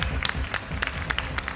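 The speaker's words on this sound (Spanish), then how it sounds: "Así que te aplaudo" Studio audience applauding a singer at the grand final of a TV talent show, a dense, steady patter of clapping from a crowd, moderately loud and continuous throughout.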